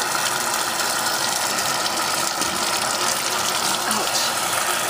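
Cold water runs steadily from a tap over a paintbrush being rinsed, a continuous broadband gush close by with no pauses for the whole stretch.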